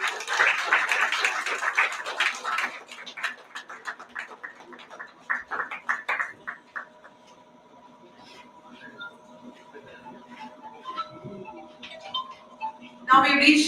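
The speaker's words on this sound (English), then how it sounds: "Big round of applause." Audience applause at a chess tournament prize ceremony: a burst of clapping that thins and fades over several seconds, then a quieter stretch with a steady tone, followed by a sudden short loud sound at the end.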